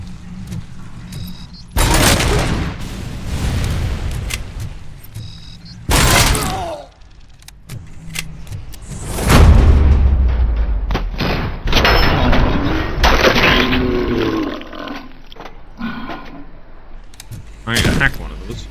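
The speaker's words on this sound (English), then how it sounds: "It's an OCP turret." Heavy suppressive fire from an OCP turret in a RoboCop video game, loud repeated bursts of booming, thudding gunfire that come in several separate volleys and mix with game sounds and someone talking.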